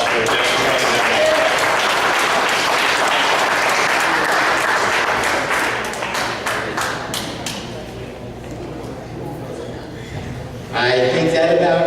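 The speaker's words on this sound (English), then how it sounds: "give yourselves a round of applause for Charlie Dent" A general meeting audience breaks into dense, loud applause for Charlie Dent, clapping steadily at first and then thinning out into scattered claps, with voices and a few chuckles mixed in.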